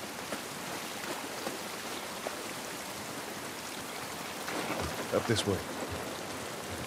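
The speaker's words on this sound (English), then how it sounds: "This rain ain't gonna do us any good." Steady rain falls outdoors in the video game The Last of Us Part I, a soft continuous patter with a few brief thuds near the end while a voice speaks briefly over it.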